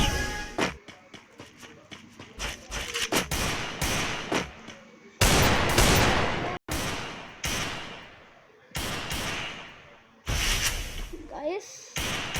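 Favourite gun fired in the Free Fire mobile shooter, loud repeated bursts of game gunfire cutting in and out with brief gaps, close and dominant throughout.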